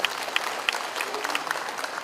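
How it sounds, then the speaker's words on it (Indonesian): Audience at a ceremony for an orphans' Islamic boarding school gives a steady round of applause, moderately distant and even, with a few sharper claps standing out from the crowd. "Dan ini harus tepuk tangan untuk semuanya."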